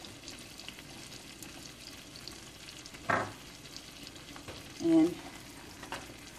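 Country sausage gravy cooking down in a pan: a soft, steady bubbling sizzle with a couple of brief stirring clinks and a short spoken word.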